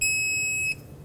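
A click-type torque wrench gives a single sharp electronic beep lasting under a second as a control arm bolt on a 2005-2009 Chevy Equinox reaches 110 foot-pounds, followed by quiet workshop background.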